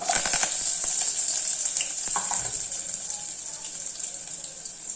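Onion and curry leaves fry in hot oil with mustard seeds, cumin and urad dal, starting with a burst of sharp crackles and pops that settles into a steady, close hiss.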